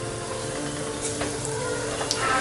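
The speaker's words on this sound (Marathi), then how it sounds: "तेल गरम झालंय, आता यामध्ये मी मोहरी ऍड करते" Mustard seeds hit three spoons of hot oil in a pressure cooker, giving a steady close sizzle with a few sharp crackles and pops scattered through it.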